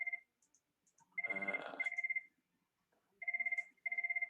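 A telephone rings for an incoming call with a bright electronic trill in repeated bursts. Separated by short silences, the rings sound fairly close but moderate in level, and a brief voice-like sound overlaps one ring.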